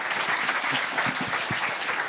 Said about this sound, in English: A massive round of applause to Sam, Jamie and Becca